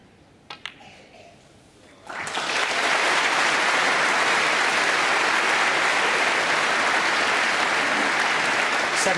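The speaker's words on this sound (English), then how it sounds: "a lot of encouragement from the crowd" At the 2015 Masters snooker final, a quiet hall bursts into loud, sustained crowd applause after about two seconds and keeps clapping steadily to the end.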